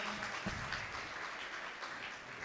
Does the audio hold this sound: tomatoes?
no